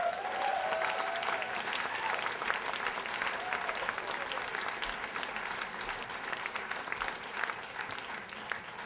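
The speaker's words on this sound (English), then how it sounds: "Another round of applause for Matteson." Comedy club audience applauding a comedian at the end of a stand-up set, a dense, steady wash of clapping that fills the room and continues at an even level throughout.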